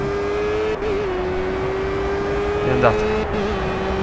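A Formula Gulf (Renault) race car in Project Cars at Imola drones with a steady, strained high engine note that shifts slightly in pitch. Someone speaks briefly over it.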